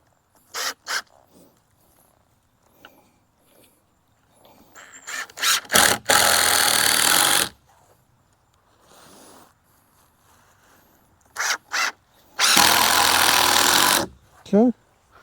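A power tool drives screws into a shed deck in two long, loud whirring bursts, mixed with short clicks and shuffling handling noises and quiet gaps between the screws.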